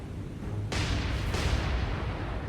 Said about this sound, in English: Magazine explosion over here. Cargo explosion.